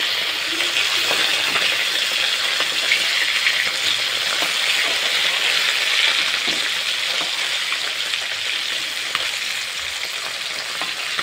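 Freshly flipped fish fries in a pan with a continuous close sizzle, scattered sharp pops and spits over about eleven seconds, easing slightly toward the end.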